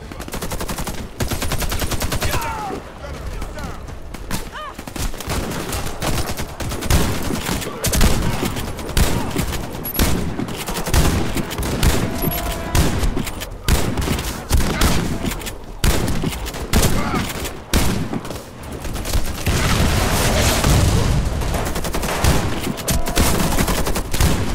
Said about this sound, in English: Quick pistol fire.